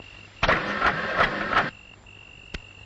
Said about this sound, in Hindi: दोस्त, ये गाड़ी झटके क्यों लेने लगी?